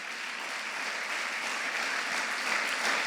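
A church congregation claps warmly in sustained applause, a dense, even wash of many hands from a crowd that holds steady and swells slightly toward the end.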